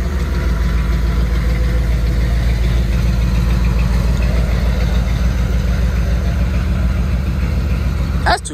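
A diesel truck engine idles close and loud, a steady low rumble with a faint knocking texture that holds unchanged throughout, with no talk.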